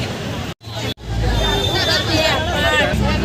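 A dense crowd of devotees fills Dagdusheth Halwai Ganpati temple in Pune on Sankashti day: a constant close babble of many voices, briefly cut off twice near the start before resuming.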